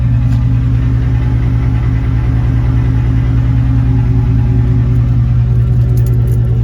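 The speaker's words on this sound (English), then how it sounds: "here's the exhaust, the muffler delete with just the piping, the tip" A Ford F-150 with a muffler delete, running on straight exhaust piping to the tip, gives off a loud, steady low idle rumble close by with a constant throbbing drone and no talk.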